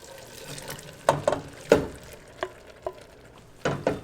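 Ground meat with cumin, crushed peppers and oregano is stirred in a pan, giving scattered scraping strokes and wet clacks over a low steady sizzle, close and moderately loud.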